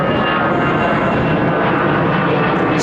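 An Airbus A320 in special livery climbs out overhead from London Heathrow's runway 09R, a loud, continuous broadband jet roar filling the brief moment without a break.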